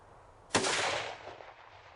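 A single sharp report from a .284 Shehane F Class rifle during barrel break-in, hitting suddenly and loud, then tailing off into a long, fading echo rolling across the range.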